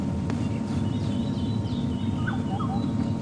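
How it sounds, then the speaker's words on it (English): Small bird calls, thought to be a scrub robin, sound as brief high chirps and whistled notes at a distance over a steady outdoor drone from an African safari drive at sunrise. "Sounds like one of the scrub robins."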